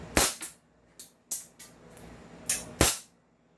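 The God Father gun fires several sharp, loud shots through a chronograph, each a crisp crack with short decay, spaced irregularly and close by.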